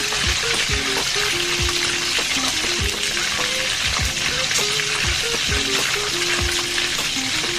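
A whole chicken deep frying in hot oil gives a steady, loud sizzle and bubbling that runs throughout, with scattered clinks and knocks from a utensil.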